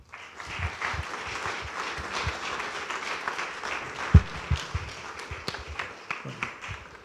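An audience applauds to welcome Fray Raúl at a novitiate anniversary ceremony, with moderate, somewhat scattered clapping and a few sharper individual claps standing out near the end.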